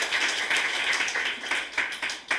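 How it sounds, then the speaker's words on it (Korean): A church congregation applauds during a service, a dense, steady patter of many hands clapping that swells and dips slightly over a couple of seconds with no talking. "우리 박수 한번 쳐주세요."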